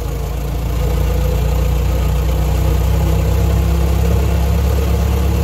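A Ford Model T engine pulling away in low pedal, a loud, steady low rumble that rises slightly and holds as the car moves off.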